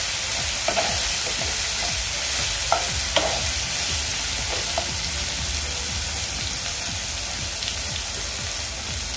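Cabbage stir-frying with asafoetida and tomato, a continuous close sizzle with occasional spatula clinks and scrapes against the pan, no voices over it.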